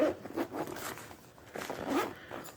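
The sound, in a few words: zipper on a first aid pack being opened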